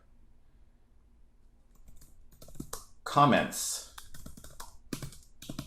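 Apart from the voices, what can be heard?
typing on a computer keyboard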